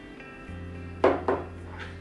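Ingredients being mixed in a bowl, with two quick clinks of a utensil against the dish over a low, quiet kitchen hum.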